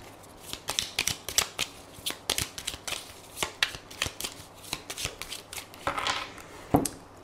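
A deck of oracle cards being shuffled and cut, with a run of crisp, rapid riffling flicks and taps close by, sometimes in bursts, with no talking.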